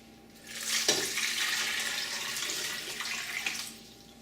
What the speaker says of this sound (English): To all of that, we're going to add water.